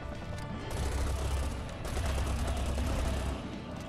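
M44 rifle fire in the video game Serious Sam 4, a dense, fast rattle of shots under a heavy low rumble, loud and sustained with a brief gap, no talking.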